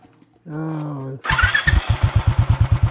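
A motorcycle on a desert ride is kicked over, sputters briefly, then catches and settles into a loud, close, steady rhythmic idle with evenly spaced exhaust pulses.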